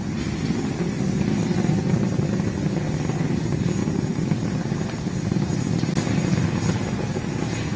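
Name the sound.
SpaceX Falcon 9 rocket, nine Merlin engines at launch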